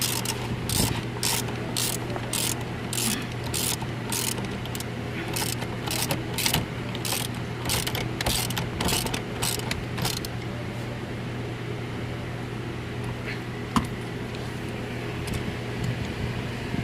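A 21 mm spanner tightens a bolt on a car during an airbag clock spring replacement. It gives a fast, regular ratcheting clatter for about ten seconds, then a quieter stretch with one sharp knock.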